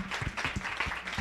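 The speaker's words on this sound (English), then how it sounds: "A round of applause," Brief, faint applause from an outdoor crowd at a community talk in Juárez, a thin patter of hand claps in quick succession, fairly distant and soft.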